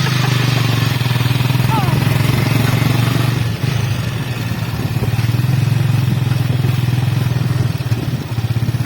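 Motorcycle taxi (ojek) engine running steadily at a low hum close by, with a brief dip midway, under traffic noise and people talking.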